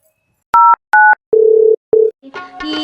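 Telephone dial tone heard while placing a call: a sequence of four loud, clean tonal beeps, two higher then two lower, followed by a ringing, warbling call tone.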